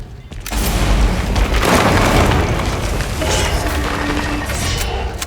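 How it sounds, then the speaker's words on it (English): Rifle fire in the Silent Hill 2 remake video game: a loud booming blast that rolls into a sustained heavy rumble lasting several seconds, with no talk over it. "Let's try the rifle."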